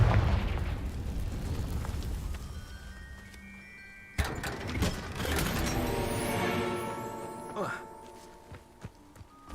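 Confringo fire spell from Hogwarts Legacy blasting rocks in a video game: a sudden fiery burst midway, followed by crackling debris and fading rumble over soft background tones.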